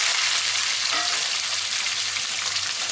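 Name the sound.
small onions frying in oil with mustard seeds and cumin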